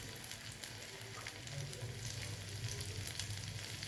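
Crushed green garlic sizzles in hot ghee and oil in a pan on a gas stove, a continuous dense hiss with a low hum beneath, steady and fairly quiet throughout.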